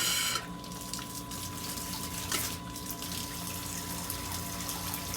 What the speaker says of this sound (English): So an M08 turns on the coolant pump on this machine.